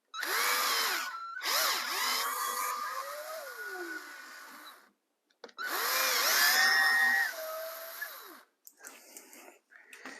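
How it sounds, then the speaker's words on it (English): A power drill bores holes for threaded inserts in a router lift build, in two loud whirring bursts with rising and falling motor pitch, separated by short pauses, followed by quieter intermittent spins. "I'm going to drill these out, making sure that I don't go through to the other side"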